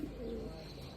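Pigeons coo softly in a low, steady murmur that runs through the brief moment, with a faint chirp near the end and no voices.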